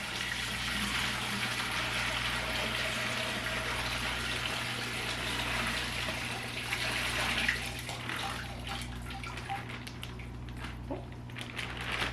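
Water is poured out of a container while a school of emerald cory catfish is moved to a new tank, a steady rushing splash that lasts about twelve seconds over a low hum and thins toward the end.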